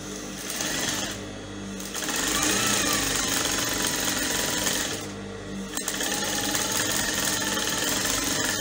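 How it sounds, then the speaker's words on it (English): Sewing machine running loud and close while stitching layered fabric sleeves, a continuous rapid mechanical hum with two short pauses. "I'm going to stitch it down like this to the end and then I'll trim it out"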